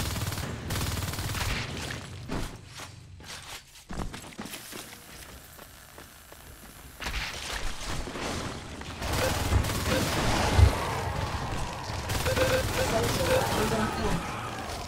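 Gunfire in the game Natural Selection 2, a marines match on a tram map, a mix of rapid automatic bursts and impacts running throughout, busy and fairly loud, with team voices talking over it.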